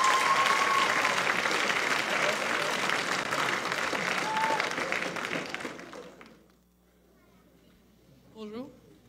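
An audience applauds a comedian arriving on stage, a dense sustained wash of clapping for about six seconds that fades out, followed by a brief voice.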